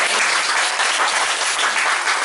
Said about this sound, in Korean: 영광의 박수를 드리겠습니다